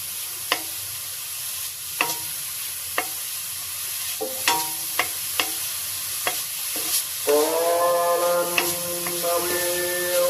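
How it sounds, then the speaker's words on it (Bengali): Grated coconut frying in a pan for bhapa pitha, with a steady sizzle and a run of sharp spatula taps and scrapes at irregular intervals, then a denser, louder stirring burst near the end. "এটা দিয়ে আমি এখন নারকেলটা ভেজে নেব।"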